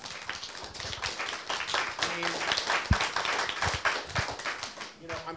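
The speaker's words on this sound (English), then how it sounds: "Yeah, you should clap for that" A town hall audience gives scattered applause and cheers during a heated meeting, with clapping mixed under ongoing talk and crowd noise.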